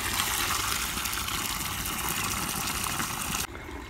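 Tap water running through a garden hose pipe to water flowering plants, a steady broadband rushing gush that stays loud and continuous, then drops abruptly near the end.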